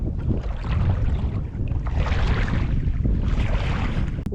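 Breeze blows across a small boat on open water, a continuous buffeting rush of wind hitting the microphone that swells and eases, loud and close, with no one talking.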